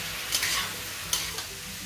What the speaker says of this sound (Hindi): और इसमें हम नमक गिरा देंगे, चीज़ों को मिला देते हैं।